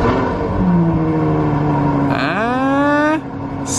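A Ferrari FF fitted with an X-pipe exhaust, warm, idles with a steady note, then revs hard once, the pitch climbing for about a second before dropping back. Loud and close, with no talk.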